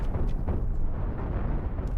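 A spaceship blows apart in the Cosmoteer space-combat game: a dense, roaring rumble of explosions runs continuously, with a few sharper bursts cutting through, loud and close throughout.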